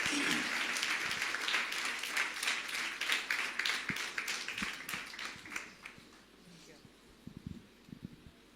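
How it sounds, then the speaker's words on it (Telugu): A church congregation at a fasting prayer gathering claps to welcome a visiting pastor, producing soft, fairly distant applause with distinct individual claps that builds, then tapers into a few scattered hits. "దయచేసి అందరం కూడా చప్పట్లు కొట్టి వారిని ఆహ్వానిద్దాం."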